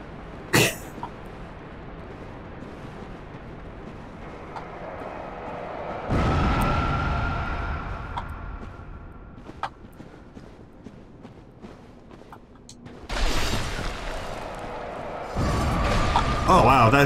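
Explosions in the video game Dark Souls burst out twice, each a loud booming blast with a rumbling tail, separated by quieter game ambience and small clicks.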